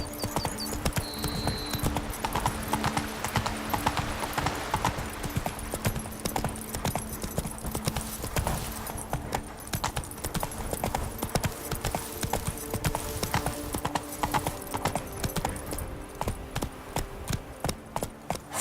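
Horse hooves galloping in The Witcher 3, a steady rapid clip-clop running throughout at close range over a game soundscape with music, plus a brief whinny near the start.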